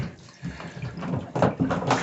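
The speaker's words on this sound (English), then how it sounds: "water should be coming out of that hose in the bathtub" Aquarium water drains from a hose into a bathtub, an uneven gurgling rush that swells in short bursts, close by and fairly quiet.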